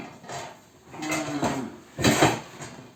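A pot lid clatters onto a cooking pot of melting beef in a home kitchen, a few soft metallic knocks and a louder clank near the end, close by with no talk.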